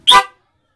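A single short horn honk from a Cyclone motorcycle alarm on a Smash motorcycle, loud and close, lasting a fraction of a second before silence.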